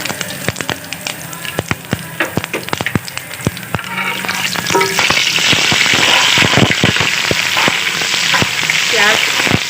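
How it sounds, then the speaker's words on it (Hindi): Chopped onions dropped into hot oil with whole garam masala spices for chana pulao, crackling and sizzling loudly, a burst of sharp pops settling into a dense, continuous fry close by. "और उसके बाद हम ये प्याज डाल देंगे इसमें"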